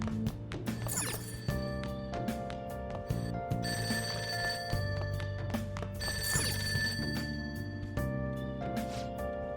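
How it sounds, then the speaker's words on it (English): An old-style telephone ringing downstairs in the Persona 5 video game, repeated bright bell trills in a steady pattern laid over the game's background music. "That ringing sound isn't coming from my cell phone."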